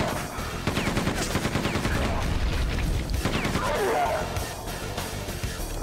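Weapon fire in Quake 2: dense rapid shots and impacts with crashes and bursts mixed with game effects, while a voice speaks underneath.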